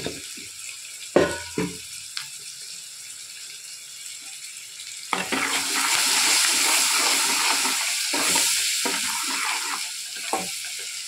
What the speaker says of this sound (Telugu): బాగా హీట్ అయింది ఆయిల్, అందుకే పసుపు వేసేసుకుంటున్నాను.